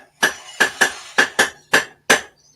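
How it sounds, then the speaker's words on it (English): Seven sharp, evenly spaced hammer blows ring out over about two seconds, each a crisp metallic strike with a short decay, coming from someone working in the background. "in the background hammering"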